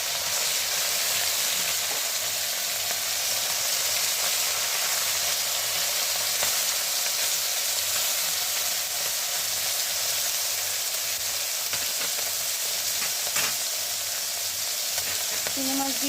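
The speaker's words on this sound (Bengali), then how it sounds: "মাছটা ভেজে নিতে হবে।" Small fish sizzling and frying in hot oil in a wok, a steady loud crackling hiss with bursts of spattering throughout, no voices.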